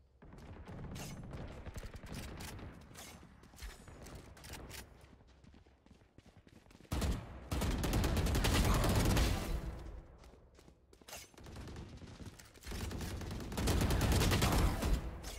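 Machine gun fire in the tactical shooter Valorant arrives as dense, crackling bursts, a sustained volley, a lull of scattered shots, then another heavy burst, mixed with other game noise.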